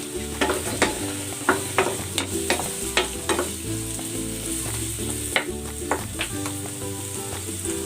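Garlic and carrots stir-fry in a pan for a chicken breast and vegetable stir fry: a steady sizzling hiss with frequent sharp clicks and scrapes of a utensil tossing the food, close and continuous, without speech.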